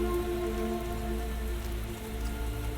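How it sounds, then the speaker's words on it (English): Steady, dense rain pours down in a video game, a continuous hiss of drops with a faint tonal hum beneath it, with no talking. "Whoa, where'd this rain come from all of a sudden?"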